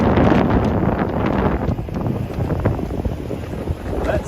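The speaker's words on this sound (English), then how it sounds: "Even though it's windy, we're gonna make it." Strong wind buffets the microphone in loud, gusty roars on a street in Harlem, New York City, with rushing water-like noise beneath; no one speaks.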